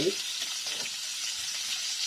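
Steak frying in a pan after butter goes in, a steady close hiss and sizzle with light crackling throughout.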